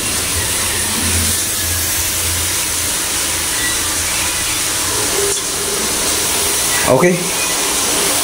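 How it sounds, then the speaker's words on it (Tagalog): A motor running steadily with a loud hissing, whirring drone that stays constant throughout, with a brief knock near the end and a short spoken word. "Gumagana na yung motor."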